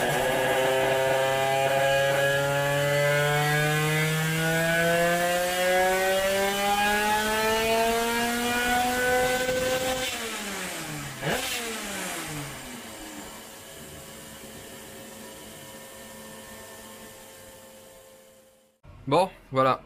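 A 70cc moped engine tuned by 2Fast, fitted with an extended exhaust, revs hard and climbs steadily in pitch, then drops off and idles down before a couple of sharp blips at the end.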